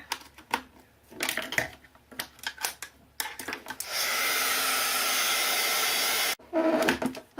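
A hair dryer blows steadily over deli papers for a few seconds, loud and close, after a stretch of tapping and handling sounds, then cuts off and the handling noises resume.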